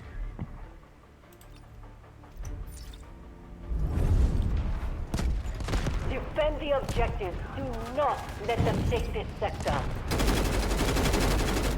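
Mounted machine gun fire from a turret emplacement in Delta Force Hawk Ops, with rapid bursts of heavy-calibre shots. Loud, dense fire mixed with game effects and someone talking over it.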